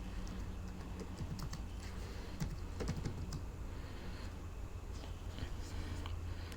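Steady typing on a computer keyboard as a bank name is entered into an online tax return form, with rapid, uneven close key clicks continuing throughout over a low background hum.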